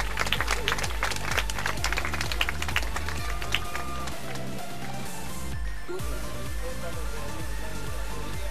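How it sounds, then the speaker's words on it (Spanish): A crowd at a children's athletics event applauds the school placing third, dense steady clapping filling the space throughout, with a brief dip partway before the applause carries on. "Le damos un fuerte aplauso a la escuela"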